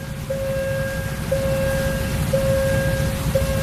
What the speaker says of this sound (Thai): รอบนี้ฝนตกนะ